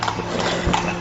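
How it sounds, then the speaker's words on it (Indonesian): Horse hooves clip-clop steadily through a short one-second stretch, fairly close and even, with a faint underlying hum and no talk over them. "kaki kuda yang sangat jelas."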